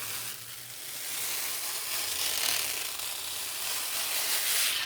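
Backing tape is peeled away from a rhinestone transfer sheet, giving a steady, close, broadband hiss-like tearing rustle that runs the whole time with no talk over it.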